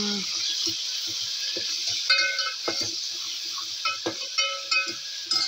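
Ginger-garlic paste fries in a pan with a steady bright sizzle, broken by clinks and scrapes of a spoon stirring against the metal, close and moderately loud.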